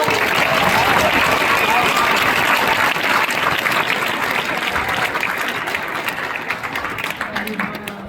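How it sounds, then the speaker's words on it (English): An audience at a school band concert claps steadily, a dense wash of many hands that slowly thins and fades toward the end, with no voices over it. "can we get a little applause for Nora?"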